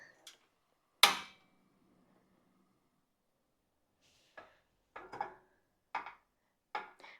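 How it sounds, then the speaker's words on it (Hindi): A portable stove being switched on, a sharp loud click followed after a pause by a series of short, quieter clicks in a roughly regular rhythm, close by in quiet surroundings. "अब मैं इसको ऑन करती हूँ"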